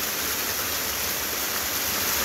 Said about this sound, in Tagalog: Ito yung tinatawag nilang Magana Falls mga kabayan